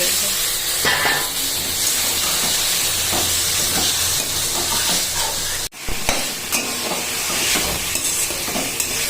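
Spice masala and boiled potatoes stir-fried in a pan, a steady close sizzle with scraping stirs running throughout, briefly cut by a short dropout partway through.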